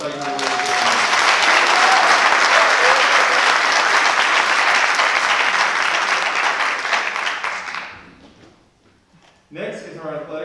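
Loud, sustained applause from an honors convocation audience at a high school, greeting award recipients; dense clapping for about eight seconds, then fading, with a voice starting up near the end.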